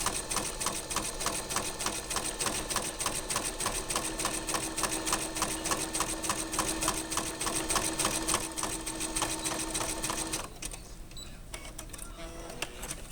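A sewing machine stitches a vinyl Top Ramen noodle package into a coin purse, running in a fast, steady mechanical whir with rapid needle clatter that eases to a lighter hum near the end.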